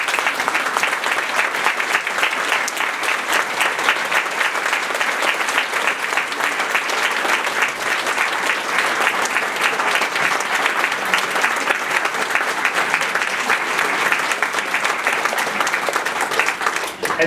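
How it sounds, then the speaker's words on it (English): A large room of people gives a long, dense round of applause for an honoured guest at a child-protection gathering, steady and loud the whole time. "Take a bow, and everybody, a round of applause."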